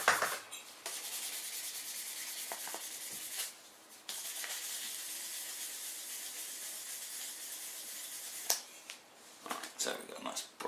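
Super fine wet-and-dry paper rubbing down a single-LED COB board, a steady close scratchy sanding hiss lasting several seconds, with brief pauses and a few small taps and clicks near the end.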